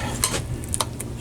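A utensil scrapes and clinks in a cast iron pan as meatballs are stirred into red gravy, a few quick metallic taps over a low simmering bubble.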